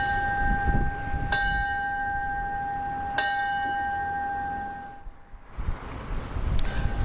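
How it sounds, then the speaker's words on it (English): Fire station bells ring in a remembrance ceremony for firefighters, two clear bright strikes a couple of seconds apart with a long sustained ringing tone, outdoors against wind noise and rustling that swells near the end. "it began with the touching tradition of the ringing of the bells"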